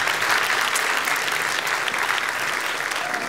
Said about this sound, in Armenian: Բարև, ծափարենք։